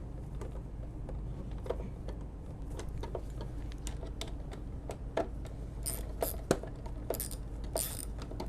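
A ratchet and socket remove the shroud screws on a BMW E39 during a hood latch replacement, giving repeated quick clicking ratchet strokes in irregular bursts, close, with a few louder clacks toward the end.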